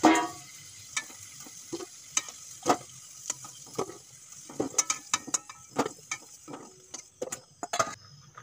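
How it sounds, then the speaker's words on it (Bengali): Fried potatoes being lifted out of hot oil for a duck curry, heard as a faint sizzle under repeated close clinks and scrapes of a utensil against the pan in an irregular rhythm. "আলুগুলো ভাজা হয়ে গেছে, এখন তুলে নেব।"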